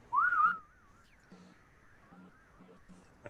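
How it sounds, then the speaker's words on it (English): A person whistles one sustained tone, loud and close, for about half a second, then a faint wavering whistle trails on quietly under soft background sounds. "I have one tone for whistling"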